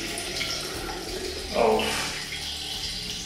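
Distilled water is poured into a jar of sauerkraut made without salt, giving a soft, brief trickle and splash that swells midway against a quiet background, with a short spoken word.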